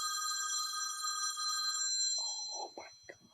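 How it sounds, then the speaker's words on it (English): A telephone rings loudly with an electronic trill for about two seconds at a business celebration event, then stops as a few faint bumps and rustles follow. "I just forgot to turn off my phone."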